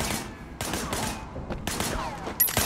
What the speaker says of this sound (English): Shooting at the guys over there.